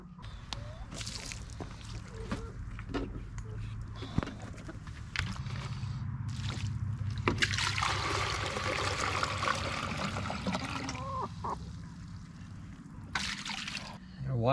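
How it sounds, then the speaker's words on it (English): Water pours and splashes steadily into a chicken waterer for several seconds, rising to a fuller rush midway, with a few clanks and handling knocks around it. "I'm gonna go ahead and change the water and fill it up"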